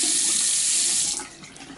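Water runs steadily from a newly installed faucet into a sink, a loud broadband rush that drops off slightly near the end, with no talking.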